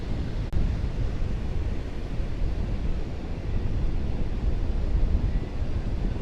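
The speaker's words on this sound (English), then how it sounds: "They're breaking pretty far out offshore" Atlantic Ocean waves break on the outer sandbar at Smith Point County Park, Long Island, New York, crashing and washing in a continuous, heavy roar, mixed with buffeting wind against the microphone; no voices.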